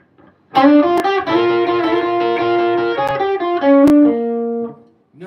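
An electric guitar plays a short bluesy lick, with a run of bright distorted notes followed by a final held bend that fades out. The guitar is heard alone.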